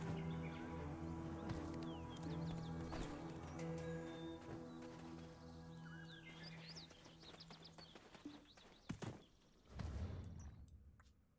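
Horse hooves clip-clop in the video game Black Desert, faint and rhythmic beneath sustained tonal game sounds, with a few louder bursts near the end.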